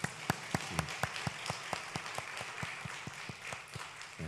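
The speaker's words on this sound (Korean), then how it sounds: "먼저 우리 한번 축하의 박수 한번 하도록 하시죠" A church congregation claps in celebration of two newly ordained Holiness Church pastors, the claps distinct and evenly paced over a soft, continuous spread of applause, heard quietly without speech.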